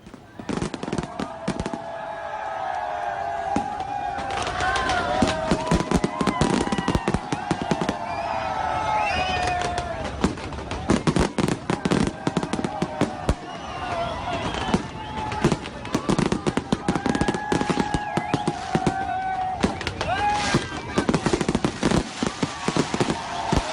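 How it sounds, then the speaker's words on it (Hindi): Pakistan Day fireworks pop and crackle in rapid bursts, with whistling rockets rising between volleys and a crowd murmuring underneath. "आतिशबाजी आपको दिखाते हैं।"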